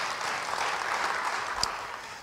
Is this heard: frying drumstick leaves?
no